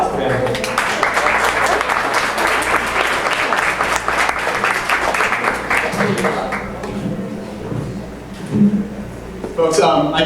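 An indoor audience at a CodeDay Bay Area opening ceremony applauds a sponsor speaker, with dense, loud clapping that lasts several seconds, then thins out. Near the end a voice speaks over the last scattered claps.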